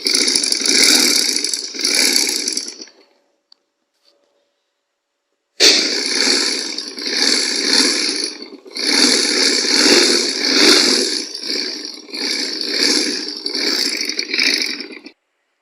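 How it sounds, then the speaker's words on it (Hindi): A sewing machine stitches the fitting seams of a baby girl's summer frock, running in loud, close bursts of rapid mechanical whirring and rattling, with a pause of silence midway before the stitching resumes in several long runs. "अब यहाँ से हमने फिटिंग की सिलाई लगाना शुरू कर दी"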